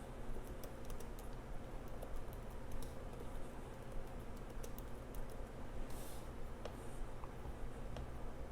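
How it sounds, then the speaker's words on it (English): Someone types a password on a MacBook Air M1 keyboard, a run of light, irregular key clicks over a steady background hum, close but faint. "I'm going to move my fingers out of the screen just so I can type in my password."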